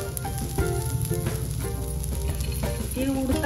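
Sesame seeds roasting with onions in a pan, a steady close sizzle and crackle with occasional stirring scrapes and small pops, loud and continuous, with no talk.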